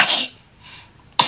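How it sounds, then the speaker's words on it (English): A child sneezes, a breathy burst at close range, followed by quieter breaths and a second sharp onset at the end, with no speech. "when you sneeze, catch it in your elbow"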